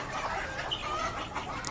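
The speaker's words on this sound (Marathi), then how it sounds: "सर्व कोंबड्या आवाज देतात" Chickens in a poultry shed call out together, a near, overlapping chorus of clucks and squawks that stays busy and moderately loud across the short stretch.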